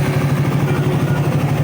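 A repaired motorcycle engine that had been burning oil runs steadily at idle close by, a continuous low droning hum with an even, slightly pulsing rhythm and no voices.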